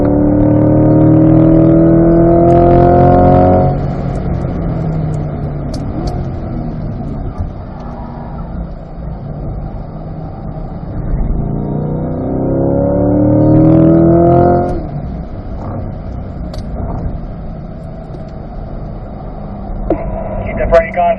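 A C8 Corvette at speed on the Spring Mountain Raceway circuit, its engine rising in pitch through acceleration, easing off, then building again, loud and close, heard under ongoing speech from an instructor.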